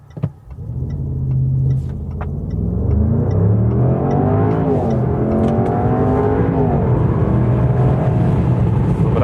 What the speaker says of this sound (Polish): zobaczymy sobie przyspieszenie od zera do setki